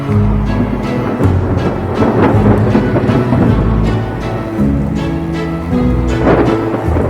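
Steady heavy rain pours with deep rolling thunder rumbling through it, loud and continuous, with no voices.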